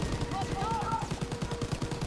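Rapid bursts of gunfire crackle in a fast, regular rhythm, with a brief rising tone over the shots, in the video game Call of Duty: WWII during an armored train mission.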